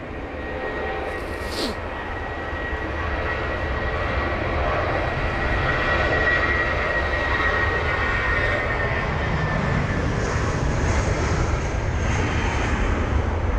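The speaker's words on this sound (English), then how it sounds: "BA984 on board this A320-200 off to Berlin" A British Airways Airbus A320-200 jet roars steadily on departure from London Heathrow, loud and close throughout with a sustained engine whine and broadband rumble on a wet runway.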